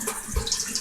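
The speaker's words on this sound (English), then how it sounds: "I rinse my hands off." A kitchen tap runs steadily while hands are rinsed during barbecue chicken preparation, a soft continuous hiss of water with a faint splash, no talking.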